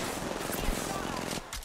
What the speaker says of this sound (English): They're shooting from over here.